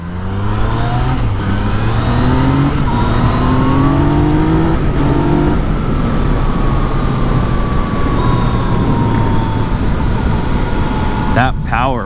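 A Yamaha MT-09 inline three-cylinder motorcycle engine revs up through rising pitches and gears, loud and close, with wind rumble throughout and a voice briefly over it.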